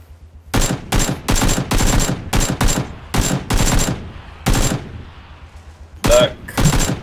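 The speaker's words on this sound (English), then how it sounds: "Oh, I'm being shot at." Video game gunfire crackles in repeated short automatic bursts, with clustered volleys separated by brief gaps and a few isolated shots near the end, sharp and close.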